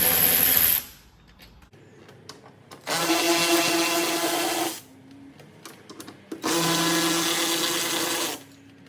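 Two sustained bursts of a power tool loosening 7mm bolts from a C6 Corvette door panel, each lasting about two seconds, loud and close with quiet pauses between.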